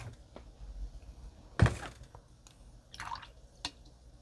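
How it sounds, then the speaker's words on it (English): A paint brush is dipped and swished in a water pot while painting, giving a single soft wet splash with a few faint drips and taps around it in a quiet room. "Just wet our brush, not too much."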